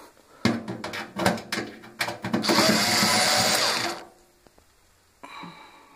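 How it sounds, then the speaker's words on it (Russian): Front cover screws on a Solly H18 gas boiler being backed out with a powered screwdriver: a run of short whirring bursts, then one longer steady spin, close by and with no talk. "Откручиваем передние 6 винтов."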